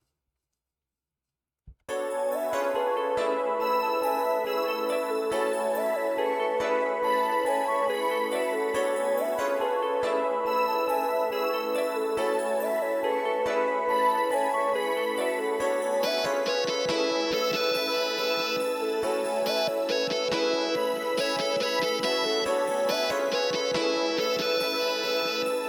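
A produced beat melody plays alone after a short silence, with a choir-like pad arpeggio that climbs an octave in the latter half, sustained and steady without any talking.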